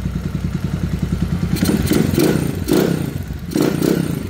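Motorcycle engine running after a start, with a steady idle breaking into several loud, close revving bursts and some mechanical clatter, no talk over it.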